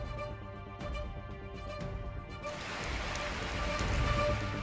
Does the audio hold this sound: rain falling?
yes